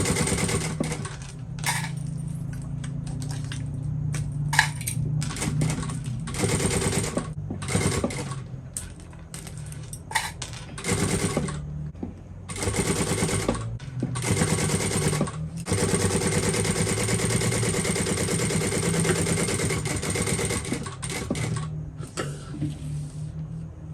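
A sewing machine runs in repeated bursts of rapid stitching as a strap is sewn onto waterproof canvas, loud and close, with brief pauses between runs and quick back-stitching.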